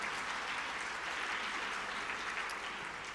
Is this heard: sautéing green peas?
no